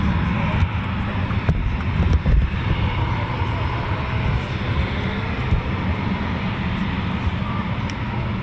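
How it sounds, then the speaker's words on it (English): A Eurofighter Typhoon FGR4 makes a performance takeoff with reheat at RAF Coningsby, heard as a loud, continuous, deep roar mixed with wind buffeting throughout. "That is what you call a performance takeoff."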